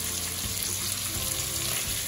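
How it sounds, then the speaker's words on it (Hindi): Chops fry lightly in very little oil, giving a steady, close hiss of sizzling that holds even throughout, with no talk. "मैं इसको बस हल्का सा फ्राई कर रही हूँ बहुत कम ऑयल में"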